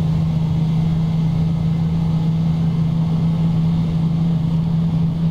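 Airbus A320 (FlyByWire A32NX) engines spooling up in Microsoft Flight Simulator 2020, a steady loud engine drone with a strong low hum holding evenly throughout, no voices.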